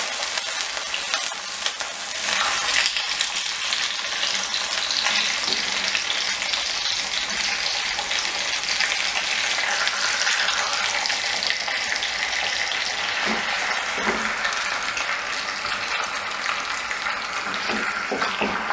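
Chicken pieces fry in a tajine pan with a dense, steady sizzle and spattering crackle, loud and close, running unbroken throughout.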